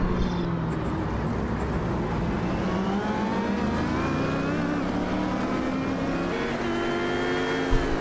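Race car engines in a GT-class sim racing game at the Suzuka circuit, including a Corvette, roar loudly and continuously, their pitch climbing and shifting through gear changes as cars run close together.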